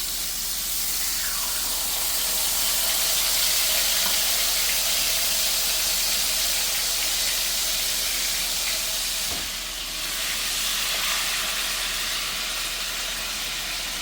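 Bourbon-marinated pork chops sizzle in hot grapeseed oil in a pan, a dense, steady frying hiss that fills the whole stretch, close and uninterrupted with no talk over it.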